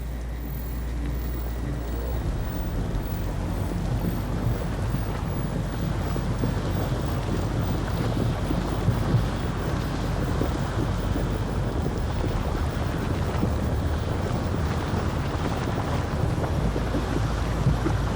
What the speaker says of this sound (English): Oh, that's the wind, man. It's windy out here.